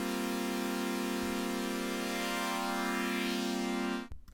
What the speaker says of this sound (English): It's kind of a nice resonant pad sound.